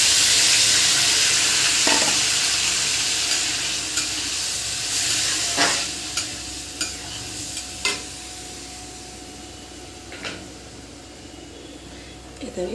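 Rice fries in hot oil with cumin, chilli and bay leaf, hissing steadily while a spoon scrapes and stirs in periodic sharp strokes; a voice talks over the sizzle at times.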